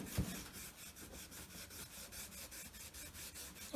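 Steady rasping rub over a Hitachi C18DSL circular saw blade being cleaned, a continuous scrubbing texture with quick repeated strokes, close and fairly quiet, with a couple of brief knocks at the start and end.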